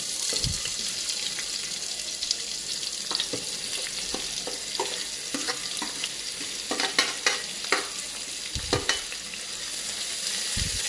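Oil hisses and crackles steadily as chopped onions fry in a pressure cooker, with intermittent scraping and tapping of a spoon stirring in the pan.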